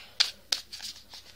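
A Halloween card deck being shuffled by hand gives a few crisp, close papery snaps and flicks, two sharp ones followed by softer rustles.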